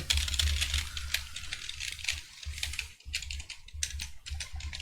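Keys clatter in steady bursts on a computer keyboard as short answers are typed into an online Google Form quiz, close and clear with brief pauses and no talking.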